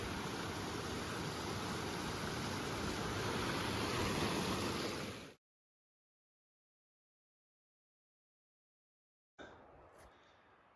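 Rushing stream at a hiking-trail water crossing in Jasper National Park, a loud steady wash of flowing water close by that cuts to silence midway and then returns more faintly.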